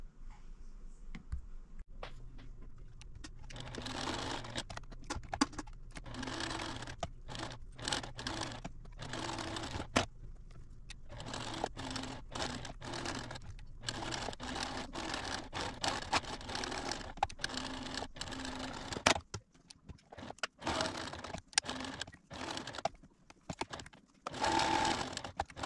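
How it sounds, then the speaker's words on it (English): A sewing machine stitches up fabric placemats for Thanksgiving, running in repeated bursts of rapid needle clatter separated by short pauses, close and fairly loud, with no talking. "let's go to the sewing machine and sew these up"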